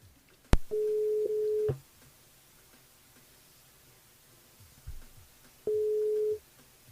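Ringback tones on a live radio phone call to a mobile phone, two long steady beeps separated by a pause, with clicks on the line.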